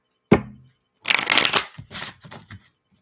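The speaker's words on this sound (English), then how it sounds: "Last shuffle for Cancer." A sharp knock of tarot cards, then a quick riffle shuffle with crackling bursts and small taps, close and clear, without speech.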